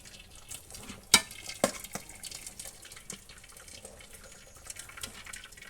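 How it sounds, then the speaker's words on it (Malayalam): Water draining from a pot of cooked rice being strained for mandi, a soft continuous trickle and splash with a couple of sharper clanks of the pot or strainer early on, close and fairly quiet, with no talking. "ഇപ്പോൾ ഇതെല്ലാം ഊറ്റിയെടുക്കാൻ പോവാണ്"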